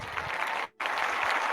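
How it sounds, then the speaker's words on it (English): Crowd cheering and clapping fills the clip, briefly cutting out for a split second midway before resuming at full loudness. "Just cheering and applause."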